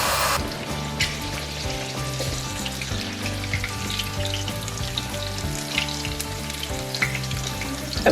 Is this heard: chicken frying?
yes